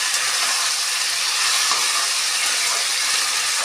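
Pigeon meat frying in a pan as cold water is added, giving a loud continuous hiss and sizzle that stays steady from start to end.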